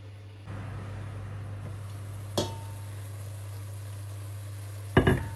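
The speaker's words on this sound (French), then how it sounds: "Il faut laisser frire juste 5 minutes." Rice and vegetables frying in a pot for a Creole-style riz gras give a steady, even sizzle over a low constant hum, broken by a brief clatter midway and a louder utensil clank near the end.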